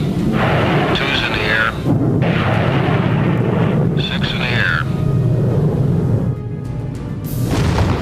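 Salvo of missile test explosions striking six widely spaced targets, heard as sustained heavy rumbling blasts and booms filling the whole stretch, with a narrator speaking over them.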